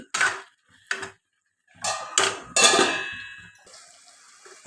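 Spinach and garlic frying over a low flame get stirred in a pan, heard as several separate clinks and scraping clatters of a utensil against metal, fairly close, with a faint hiss trailing at the end.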